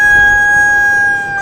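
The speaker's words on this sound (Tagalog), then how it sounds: "Ang manok, natural alarm clock, hudyat na gumising na tayo." A rooster crows close by, one loud sustained call ringing out clearly on its own.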